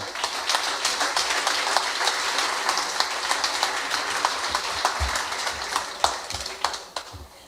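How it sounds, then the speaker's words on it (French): Audience applause at a business award ceremony, a steady, sustained round of many hands clapping in a hall, fading toward the end. "Avec vos applaudissements."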